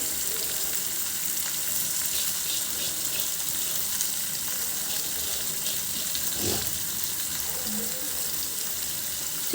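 Marinated chicken pieces frying in a pan, a continuous close hiss and crackle of hot oil, steady and fairly loud, with a faint low knock partway through.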